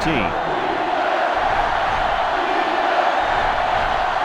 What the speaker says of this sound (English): The crowd really making it difficult.